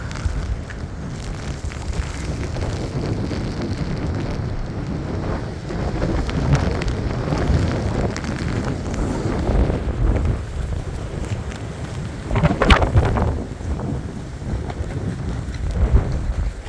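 Storm Eowyn's strong wind blowing outdoors near water close to midnight, a continuous roaring, buffeting rush with heavier gusts toward the end, loud and unbroken with no voices.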